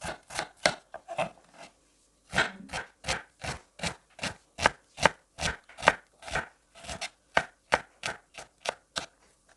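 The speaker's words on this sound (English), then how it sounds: "Finely dice" A knife finely dices onions on a cutting board, a fast, steady run of crisp close chops with a brief pause partway through.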